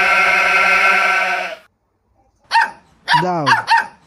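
A dog barks three times in quick succession, close and loud, after a drawn-out bleating animal call and a moment of silence.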